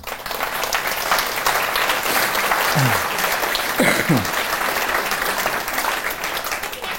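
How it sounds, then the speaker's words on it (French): A crowd at a mayor's New Year address applauds with steady, dense clapping filling the room, with a few brief murmured voices underneath. "on peut les applaudir"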